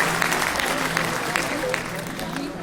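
A full college auditorium applauding loudly at an event with lyricist Manoj Muntashir, dense clapping that continues steadily with a voice faintly audible beneath it.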